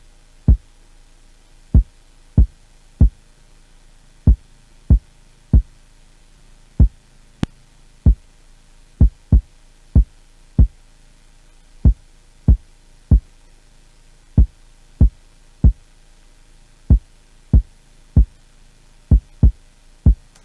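A lone deep kick drum thumps in a steady, slightly syncopated repeating Afrobeat pattern, punchy and close, with nothing else playing.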